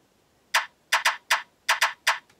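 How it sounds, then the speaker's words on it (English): A rim shot snare sample in a remix production plays seven sharp, bright clicks in a syncopated groove, some in quick pairs, clear and isolated with no voices. "And then the other is more of a rim shot."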